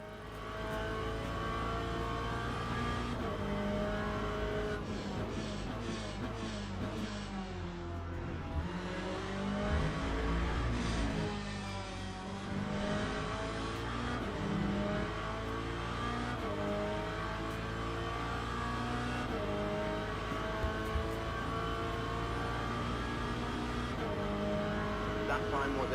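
A race car engine in the Le Mans Ultimate sim racing game drones and revs continuously, pitch sweeping up and down through gear changes, with a commentator's voice faintly under it.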